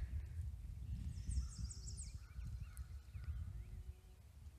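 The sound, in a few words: birds and farm fowl outdoors on a country walk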